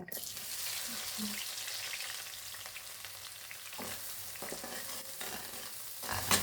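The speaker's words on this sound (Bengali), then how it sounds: "এখন আমি পেঁয়াজটা ভাজা করে নেব" Sliced onions fry in hot oil in a pan for chicken biryani, giving a steady, close sizzle throughout, with a few stirring scrapes and clinks near the end.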